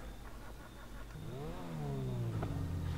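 A Ferrari's engine revs up in Grand Theft Auto V, a rising mid-pitched roar that climbs, dips and holds over a steady engine drone, loud and close.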